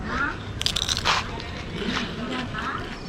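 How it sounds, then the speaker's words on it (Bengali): Close, crisp bites and crunches into a fried papad, cooked on a clay stove in Dinajpur, with a few sharp cracks heard between stretches of quiet talk. "সাদে মাটির চুলে পাপড় ভেজে পাপড় খাচ্ছি"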